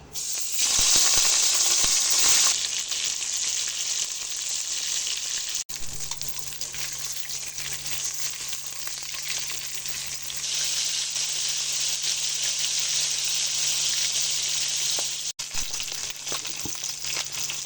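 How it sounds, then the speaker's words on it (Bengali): Rohu fish coated in salt and turmeric frying in hot oil gives a continuous bright sizzle, loudest at the start, with a low hum underneath and brief breaks. "এবার আমি লবণ হলুদ মাখানো মাছগুলো ভেজে নেব"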